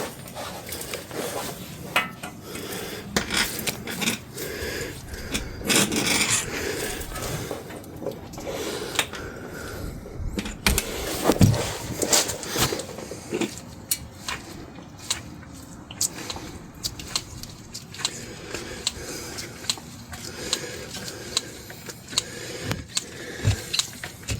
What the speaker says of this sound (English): Time to pump it full of some grease.